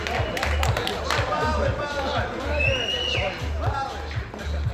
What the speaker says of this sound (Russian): Смотрите, все аплодируют.